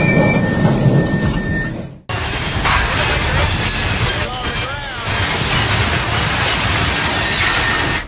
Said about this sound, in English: A truck, while passing through the Faraka Dam, collided with a passing freight train.